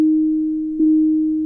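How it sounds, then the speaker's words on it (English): A pure sine tone isolated from the root partial of a piano note holds one steady pitch, alone and clean, with a slight bump in level partway through before sustaining to the end. "each of these harmonics or overtones is a pure sine wave, more or less"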